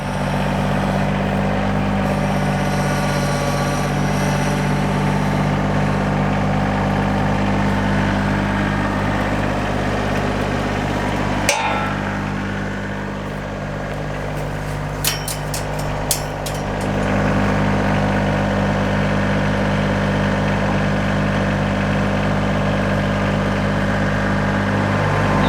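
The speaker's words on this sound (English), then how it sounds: "now it's time to get on the tractor and bring the auger over and dig some holes" A tractor engine with a post-hole auger attached runs at a steady, loud, low rumble, nearby and constant, with a few sharp clicks and knocks around the middle and no talking.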